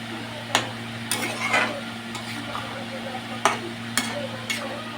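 Fresh cream is stirred into a dish in a pan, a spoon scraping and knocking against the pan in scattered strokes over a steady low hum.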